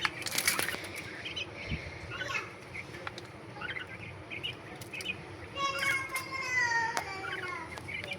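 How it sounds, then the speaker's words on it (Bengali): Several caged quail at a home flap their wings in quick fluttering bursts, mixed with sharp chirps and a few bird calls near the end, heard close with some background clatter. "সো গাইস এইগুলোই আমাদের কোয়েল পাখি"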